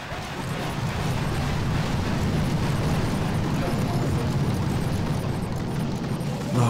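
A continuous, loud rumble of explosions and heavy booming fills the whole stretch in the video game Boom Beach, dense low-end roar with no breaks, like constant battlefield blasts.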